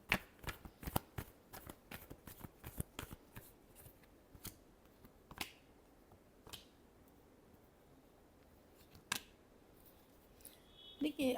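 Tarot cards are shuffled by hand in a quiet room. Crisp riffling bursts and sharp slaps come in quick irregular clusters, then thin out into occasional snaps before a final flurry.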